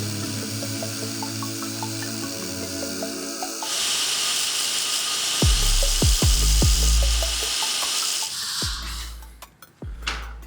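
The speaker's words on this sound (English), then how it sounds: "Cut off wheel." A cut-off wheel slices through a 1/4-20 steel stud in a machine shop, giving a loud, steady grinding hiss that runs for several seconds over shop background noise, with a few sharp thumps near the end.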